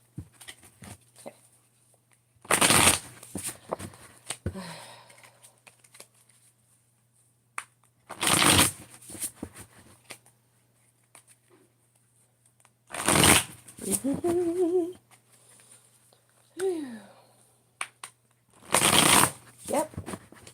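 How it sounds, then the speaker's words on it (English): Tarot cards are shuffled in four quick riffling bursts spaced a few seconds apart, with faint movements and soft talk in between. "They're telling me just pick up the cards and shuffle."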